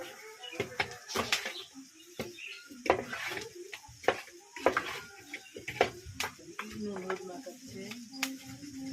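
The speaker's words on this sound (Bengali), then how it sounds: "আমি মশলাটা কষাই নিচ্ছি।" Spices sautéed and stirred in a pan, a dense run of sizzling and scraping clicks with sharper metallic taps from a spoon, close and fairly loud throughout.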